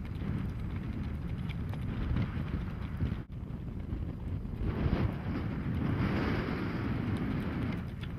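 An Icelandic horse carrying a rider moves at a smooth tölt along the long side of an outdoor sales show arena, hooves clip-clopping in a quick even rhythm under heavy wind buffeting.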